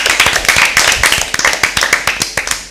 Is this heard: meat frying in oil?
no